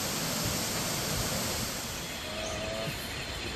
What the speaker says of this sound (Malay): Bunyi gemericik air berpadu dengan bunyi unggas, mencipta suasana damai.